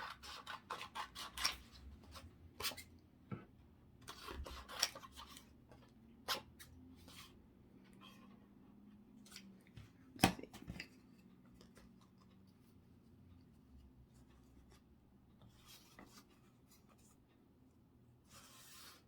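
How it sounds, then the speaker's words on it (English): Paper is cut out into a cross shape with scissors for a decoupage wooden cross, faint close snips and light rustling clicks scattered irregularly in a quiet room. "I'm just going to cut this out just like this"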